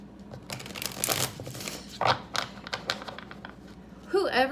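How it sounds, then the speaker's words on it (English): Tarot cards being shuffled by hand, a rapid papery riffling and slapping in several close bursts, with faint room noise and no clear talk. "Let's give this another shuffle."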